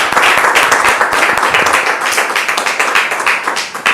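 A room full of people claps hard and fast, loud and close, with sharp individual hand strikes standing out in the rapid, sustained applause of an audience at a French-speaking event.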